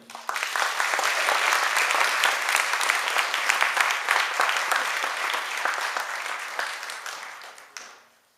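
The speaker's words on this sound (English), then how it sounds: "Let's have another round of applause for all our speakers." A graduation ceremony audience applauds the speakers with a full, sustained round of clapping that holds loud and steady for several seconds, then gradually tapers off and stops.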